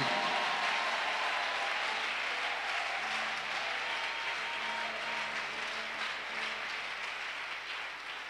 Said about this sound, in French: Oh, give the Lord a big clap.